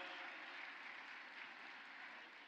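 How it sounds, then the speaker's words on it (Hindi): Loud, dense applause from a crowd welcoming guests at the inauguration of the ISKCON Sri Sri Radha Madanmohanji temple in Navi Mumbai, a steady wash of clapping that holds throughout. "जोरदार तालियों से स्वागत और अभिनंदन"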